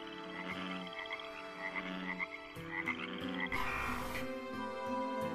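A dense chorus of frogs croaks steadily in a wild outdoor setting, overlapping pulsing calls at many pitches forming a continuous close and loud texture with no pauses.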